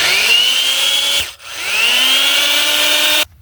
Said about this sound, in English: So it's a heavy duty drill.